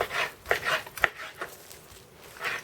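A series of knife chops on a board, cutting bacon and smoked meats for solyanka soup, quick irregular taps of varying loudness, close by with no one talking.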